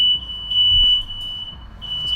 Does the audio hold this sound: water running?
no